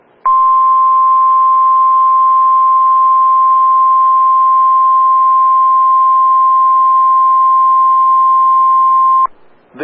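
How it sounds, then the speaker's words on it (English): A NOAA Weather Radio All Hazards warning alarm test from a National Weather Service station in Allentown, Pennsylvania: one loud, steady electronic tone holds unbroken for about nine seconds, alone, and then cuts off. "This is a test of the National Weather Service NOAA Weather Radio All Hazards Warning Alarm System"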